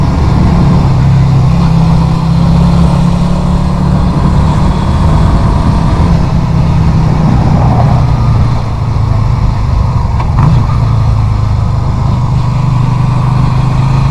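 A Yamaha Virago 250 motorcycle engine drones loudly and steadily while riding, with the pitch shifting slightly as it downshifts, under constant wind rush and no talk.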